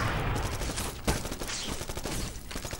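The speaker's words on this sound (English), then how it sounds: "You can hear the gunfire, but you can't actually see the man." Rapid bursts of gunfire in the first-person shooter Black on the original Xbox, sounding as dense, overlapping volleys close by with one sharper crack standing out, and no talking over it.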